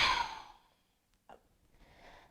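A single close, audible exhale during a yoga chaturanga push-up tapers into silence, followed by a short soft breath sound and faint rustle.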